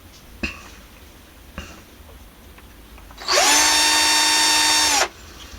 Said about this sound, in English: I'm just drilling a 1mm hole carefully in the tip of each one as a reference point